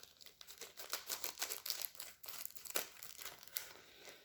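A paper envelope is peeled back by hand, giving close, quiet crinkling and tearing with irregular bursts of rustle and small rips.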